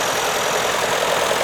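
A little French-built Grey Fergie tractor converted to a narrow vineyard model idles at a steam rally, its engine giving a steady, loud, close chugging rumble that holds even throughout.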